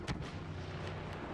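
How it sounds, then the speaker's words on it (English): A thermal imploder grenade detonating in Star Wars Battlefront, a sharp booming burst at the start followed by a rumbling low tail and scattered distant gunfire. "he's just throwing a thermal imploder at me"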